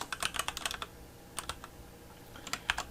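Code being typed on a computer keyboard during a Python programming lesson: quiet, close clicks in quick bursts, with a short pause before a few more scattered keystrokes.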